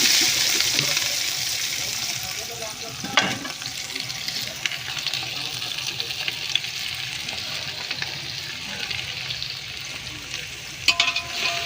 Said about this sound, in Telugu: ఉల్లిపాయను అయితే ఫ్రై చేసుకోవాలి ఫ్రై చేసుకోవాలండి ఇలా ఎర్రగా వేసేటట్టు ఫ్రై చేసుకోవాలి